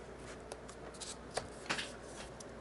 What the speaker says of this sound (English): So I'll cut here and here.